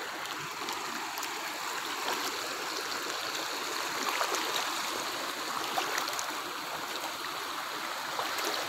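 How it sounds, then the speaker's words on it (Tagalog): Strong floodwater current rushing through a residential area, a steady, loud wash of flowing water with constant broadband noise and no pauses throughout. "Ang lakas ng tubig talaga."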